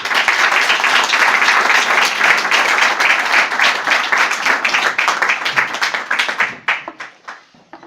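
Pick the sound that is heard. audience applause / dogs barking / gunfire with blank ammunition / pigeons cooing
audience applause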